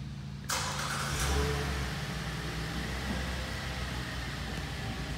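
Remote start of a 2017 Chevrolet Traverse LT engine: a quiet pause, then the engine abruptly catches and settles into a steady idle rumble with a brief swell at the start.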